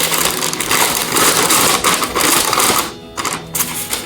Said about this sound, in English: Next thing we're gonna do, gonna open up our paper bag.